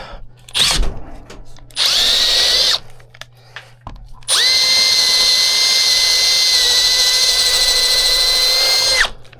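A power drill whirring in short bursts, then a long, loud sustained whine as it runs steadily before cutting off, while working on a Harbor Freight jack big wheel conversion.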